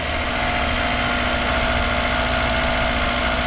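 A Mazda Miata engine on a non-stock ECU idles steadily right after its first startup, a constant close-up hum with an even rumble and no voices.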